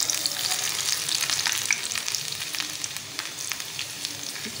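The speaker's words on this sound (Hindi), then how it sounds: "दो तीन सेकंड के लिए लहसुन पकेगा" Garlic frying in a pan while cooking spinach dal, a loud continuous sizzle with crackling oil and spitting pops, close up and steady throughout with no voices.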